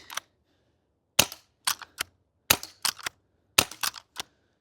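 A G&G LevAR airsoft lever-action rifle cycles and fires repeatedly, giving crisp snapping pops in quick pairs and triplets, each shot followed by the clack of the lever, close and clean with no talking.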